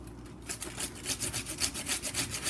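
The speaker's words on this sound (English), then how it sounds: "I'm almost done grating this radish." A radish being grated by hand for kimchi, a steady run of rhythmic rasping strokes that starts after a short pause and continues close-up and fairly loud, with no talking.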